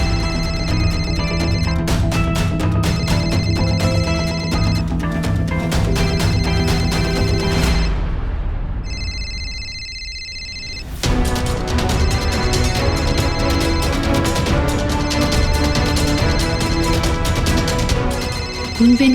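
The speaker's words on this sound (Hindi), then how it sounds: "फोन तो यहीं कहीं बज रहा है।" A telephone ringtone rings loudly and continuously close by, a bright repeating melody that breaks off briefly for a moment before resuming.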